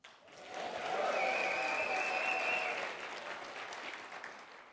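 Audience at a live speaking contest applauding and cheering, a swelling burst of clapping with a few whoops that peaks early then tapers, heard from some distance.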